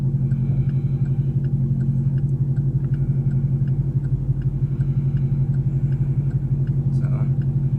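Car engine rumbles steadily and loudly from inside the vehicle during a drive on cold tires with little traction, a constant low drone with no talk over it.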